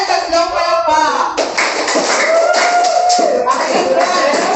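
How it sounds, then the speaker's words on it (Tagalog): A class claps in a patterned rhythm for group 2, with loud, close hand claps mixed with children's voices chanting along. "bigyan natin siya ng tatlong palakpak."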